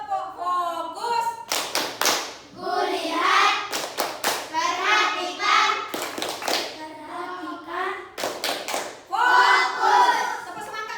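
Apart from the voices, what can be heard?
children doing the rhythmic "tepuk fokus" clapping chant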